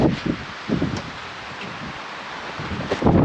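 Strong gusts of wind buffet the microphone at a lakeside camp, low rumbling surges rising and falling in a few waves over a steady rushing background, with no talk.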